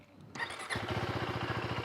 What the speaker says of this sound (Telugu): ఒకసారి అయితే స్టార్ట్ చేసి చూద్దాం.